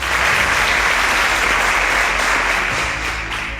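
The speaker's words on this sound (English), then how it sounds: "A round of applause, they all got the correct answer." Loud, dense applause from an audience at a stage quiz event fills the whole stretch as a steady wash of many hands clapping, fading slightly toward the end.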